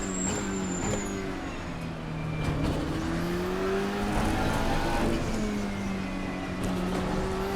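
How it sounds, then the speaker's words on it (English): GT-M Lanzo V8 GT3 sports car at Imola, its V8 engine droning steadily and loud with rising and falling revs through gear changes, a continuous close engine note with no talk. "have some fun with the newest Italian sports car on the GT3 grid"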